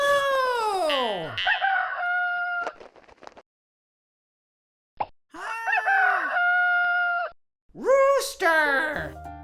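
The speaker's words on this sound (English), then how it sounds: "Rooster." A cartoon rooster crows in a children's animal-learning segment, with several loud, drawn-out harmonic calls separated by a silent gap, plus short playful sound effects between them.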